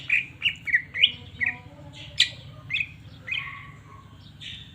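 A cucak ijo, or green leafbird, calls nearby in a series of bright, sharp chirps and short whistled phrases, quick at first and then sparser, over a faint low hum.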